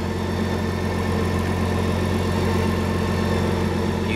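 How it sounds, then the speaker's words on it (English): The T-rex 16S with its BMW 1600cc engine idles close by, a steady, even hum with a constant low rumble and no talk throughout. "We have quick engine start"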